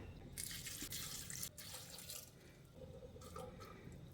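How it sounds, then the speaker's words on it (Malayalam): Water poured into a pressure cooker holding washed jackfruit seeds makes a quiet, steady splashing pour with a short pause and some drips, close by and without talk. "ഇനി അതിലേക്ക് വേവാൻ ആവശ്യമുള്ള വെള്ളം ഒഴിക്കാം"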